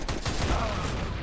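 Gunfire in the game CS:GO, a quick burst of shots in a short rattling fusillade, fairly close and punchy, over a low background rumble.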